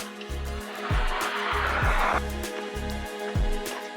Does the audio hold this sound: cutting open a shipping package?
no